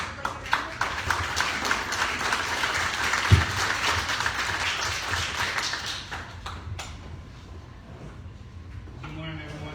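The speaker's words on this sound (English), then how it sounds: "Let's give Blake a round of applause." An audience claps at a community business meeting, a dense patter of many hands that swells, then thins and fades out near the end.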